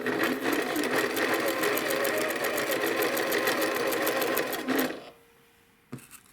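A sewing machine runs fast and steady for about five seconds, stitching pieces of an AccuQuilt Winding Ways quilt block, its rapid needle clatter loud and close, then stops, leaving quiet with a brief click near the end.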